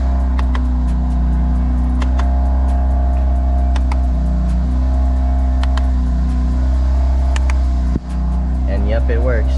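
Engine of a BMW M car idling loud and steady inside an enclosed space while its magnetic paddle shifters are tested, a continuous close drone with light clicks and some talk over it.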